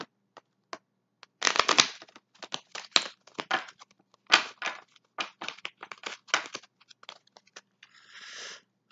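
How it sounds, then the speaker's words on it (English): Tarot cards are shuffled close up in bursts of crisp riffling, tapping and rustling, with short pauses between irregular clusters and no voices. "let me shuffle these pieces"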